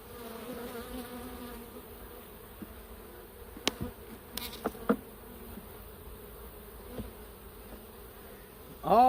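Honey bees buzz around an open beehive during an inspection, a continuous low drone close to the listener, with faint knocks and handling noises and a louder burst near the end.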